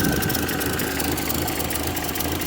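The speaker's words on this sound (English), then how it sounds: "That is a Model A 4-cylinder, 200 cubic inch Model A 4-cylinder engine" A 1929 Ford AA tow truck's 200 cubic inch Model A four-cylinder engine idles steadily, with a continuous rumbling, vibrating drone close up and no talk over it.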